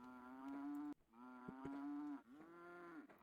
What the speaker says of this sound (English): we do have the cows coming in here.